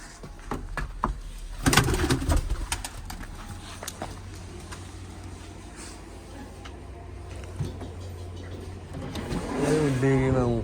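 Pigeons coo and call amid outdoor noise, with a brief burst of fluttering wings and people talking nearby throughout.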